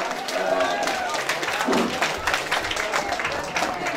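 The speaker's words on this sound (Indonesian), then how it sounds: "Tepuk tangan yang meriah untuk Anda semua" An audience at a short scouting talk breaks into applause, a dense, steady wash of many hands clapping at moderate loudness for about four seconds, with voices mixed in underneath.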